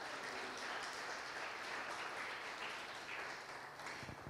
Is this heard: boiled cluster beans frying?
no